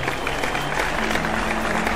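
Steady, dense applause from a crowd greets the champion of a modified diecast car racing tournament final, filling the short moment evenly with close, continuous clapping.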